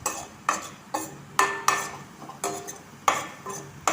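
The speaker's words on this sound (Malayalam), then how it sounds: "അതിലേക്ക് ഇഞ്ചിയും വെളുത്തുള്ളിയും ചതച്ചത് ചേർത്ത് ഒന്ന് മൂപ്പിച്ചെടുക്കുക." Crushed ginger and garlic sautéing in a pan, with a regular series of sharp metallic spoon strokes scraping and clinking against the pan over a faint sizzle.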